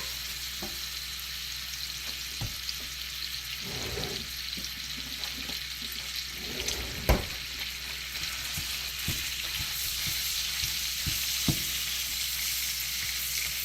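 Hamburger meat sizzles steadily in a hot frying pan, a constant crackling hiss with occasional clinks and scrapes of stirring.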